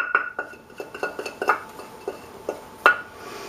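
Blueberry cheesecake mixture is scraped into a pan with a spoon or spatula, producing a series of light metallic clinks and taps in an uneven rhythm, close and moderately quiet, with no voices.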